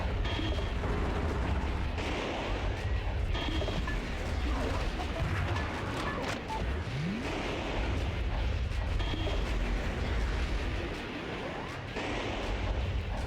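Explosions crash without pause in the Metal Wolf Chaos XD video game, dense and heavy booms over rumbling mechanical noise and debris, with a loud, busy mix throughout.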